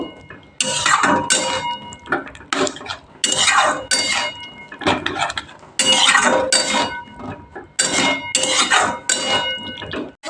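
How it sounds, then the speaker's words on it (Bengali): A spoon scrapes and clanks against a pan as masala with beetroot and potato is stirred and fried, bursts of loud metallic stirring coming in repeated strokes with short pauses between, near and without talk. "মশলাটাকে আমি অনেকক্ষণ ধরে ভালো করে কষিয়ে নেব"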